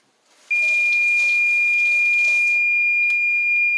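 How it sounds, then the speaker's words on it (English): A kitchen timer alarm signals cooked noodles with a loud, steady, high-pitched electronic tone that switches on abruptly and holds unbroken, near and alone. "That's just the alarm to tell me"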